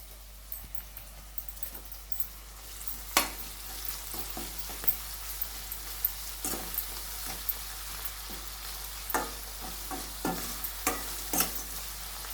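Ginger garlic paste frying in a pan while being stirred, with a soft continuous sizzle broken by repeated scraping and tapping strokes of a spoon at an uneven rhythm, fairly quiet and close.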